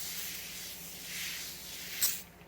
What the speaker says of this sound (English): And just add a little spray starch.